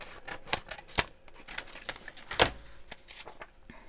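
Scissors trim paper from a craft kit in a few sharp snips, one louder cut near the middle, close up with a faint rustle between cuts and no talking.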